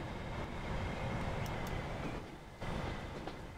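A high-speed train in Transport Fever 2 rushes along steadily with a dense rolling rail noise and a few faint clicks, moderately close and without talk.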